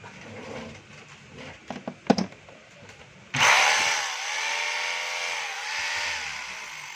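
A DeWalt D25042 rotary hammer starts abruptly partway through and runs loud and steady in hammer mode, a harsh, dense rattling drone. A few light knocks and handling clicks come first, and a bird calls faintly in the background.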